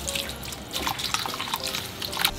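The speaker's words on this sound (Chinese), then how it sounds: "quinoa has to be rinsed" Running tap water splashes and trickles over quinoa being rinsed in a kitchen, a steady close wash of spattering water with no one speaking.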